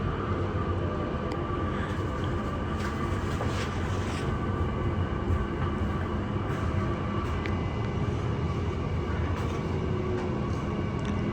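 A six-car Sydney Trains Mariyung train near Strathfield Station, a steady loud rolling rumble of rail noise with clanks and hiss throughout, no voices.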